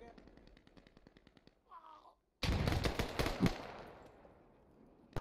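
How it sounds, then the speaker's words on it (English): Heavy gunfire and explosive grenade bursts in a multiplayer military shooter game battle: rapid repeated shots at first, then a loud dense barrage of blasts and automatic fire that fades away, with a voice talking briefly. "Grenades are flying everywhere."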